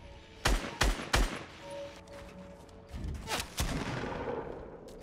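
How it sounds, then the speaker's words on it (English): Desert Eagle pistol fired from the hip in Fortnite Battle Royale: three sharp, loud shots in quick succession, then a pause, followed by several more shots and duller impacts in the distance. "Deagle hipfire is ridiculously good"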